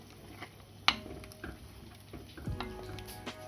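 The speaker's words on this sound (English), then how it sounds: "Sprinkle that in. And then just give that a bit of a stir." A spoon stirs paneer and pea curry after garam masala is added, with a few soft taps and scrapes against the pan over a faint background sizzle.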